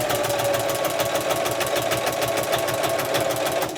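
A sewing machine stitches binding along the edge of a quilt in a fast, even, continuous run of close mechanical clatter, loud and alone.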